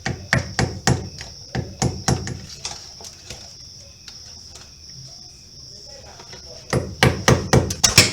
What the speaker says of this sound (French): Vous posez votre pointe à fleur du morceau à casser. Et vous tapez avec le marteau.